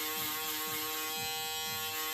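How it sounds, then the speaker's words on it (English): A foil shaver buzzes in a steady electric hum as it touches the base of a fade haircut, close and continuous, with no talking. "we're gonna go ahead with our foil shaver, and we're literally just gonna be touching at the base of the fade"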